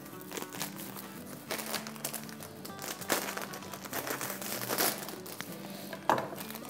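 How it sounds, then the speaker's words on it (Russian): A plastic packet of rice is opened close up, giving a run of loud, irregular crinkles and rustles with a few sharper crackles, no voices over it. "Поэтому немножко вот сейчас взял я в руки пакет риса, который был в нашем наборе. Открываю его."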